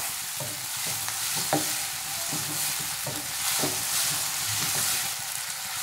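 Crushed ginger, garlic and onion fry in a pan while a spoon stirs them, a steady sizzle under repeated scraping and knocking strokes of the utensil against the pan, with no talking.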